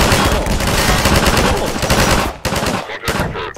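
Video game gunfire rattles in loud, rapid machine-gun bursts that fill the clip, pausing briefly near the end before resuming.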